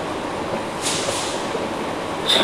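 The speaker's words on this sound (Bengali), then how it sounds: "সেতুর উপর দিয়ে যে ট্রেন এত দ্রুত যায় সেটা আমি আগে কখনো ভাবিনি।" A train runs fast over the Padma bridge with a steady, loud, broad rushing roar that stays fairly constant, plus a brief higher squeal near the end.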